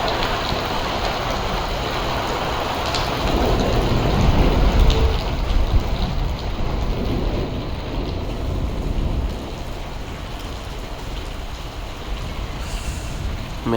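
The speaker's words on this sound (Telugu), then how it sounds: "వర్షం పడుతుంది బాగా." Heavy morning rain pours steadily in Delhi under dark clouds, a dense continuous hiss of drops on surfaces, briefly swelling louder with a passing vehicle before settling back.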